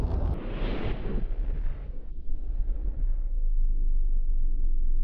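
The Aurora starship blowing up in Subnautica: a huge, loud blast that rolls into a deep rumble, the crackling fading after about two seconds into a steady low roar that hangs on.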